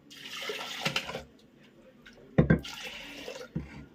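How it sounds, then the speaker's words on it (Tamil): Water is poured into a cooking pot of lentils, splashing in two short bursts, close up, with a brief quiet gap between them and a final small splash. "இப்போ தண்ணி ஊற்றிக்கலாம்"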